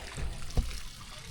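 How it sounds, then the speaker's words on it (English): Water trickles and drips close by, with one brief splashy drop standing out over a soft wet background. "they come back over to the shade with the water dripping on them"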